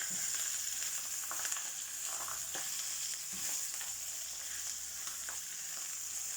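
Skin fries in a pan and renders its fat, making a continuous soft sizzle with scattered pops and a few stirring scrapes, fairly quiet and close throughout.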